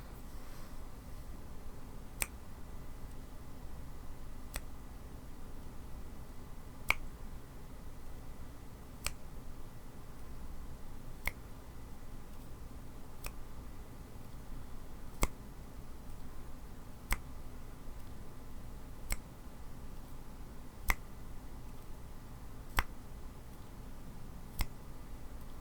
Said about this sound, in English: whenever I snap my fingers, go ahead and blink your eyes